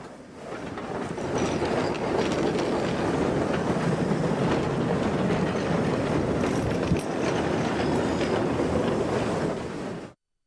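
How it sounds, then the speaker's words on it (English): An excursion tourist train runs along the rails with a loud, continuous rumble and rhythmic wheel clatter. The sound is close and steady for about ten seconds, then cuts off abruptly. "Today we learn about excursion trains, also called tourist trains."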